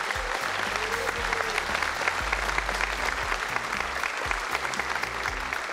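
A large audience at Lee Jae-myung's presidential inauguration breaks into applause for the new president, a thick, continuous wash of clapping that stays loud and even throughout.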